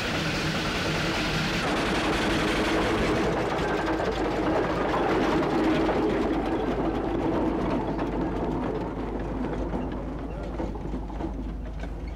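A 13-tonne Aveling & Porter steamroller, restored and shown among traction engines at Astle Park, runs with a steady mechanical clatter and rapid rhythmic ticking over a low rumble, continuous and fairly close, with a voice speaking over it.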